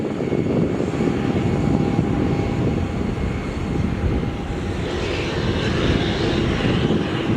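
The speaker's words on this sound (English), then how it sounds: "the Virgin Australia 737 exiting the runway while the Air India passes through" Virgin Australia Boeing 737 and an Air India jet on the runway at Melbourne Airport, a steady, loud roar of jet engines rumbling continuously throughout, with no talk.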